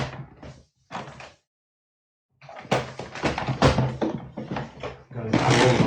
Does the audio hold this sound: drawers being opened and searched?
yes